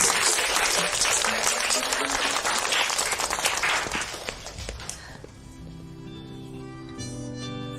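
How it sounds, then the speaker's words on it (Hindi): Loud applause from a group fills the first five seconds, dense and steady, then drops away abruptly as music takes over. "एक बार जोरदार तालियां उसके लिए"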